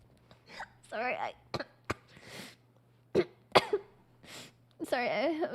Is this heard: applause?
no